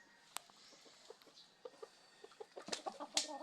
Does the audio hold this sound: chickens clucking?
yes